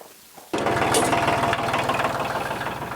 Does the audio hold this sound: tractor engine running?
yes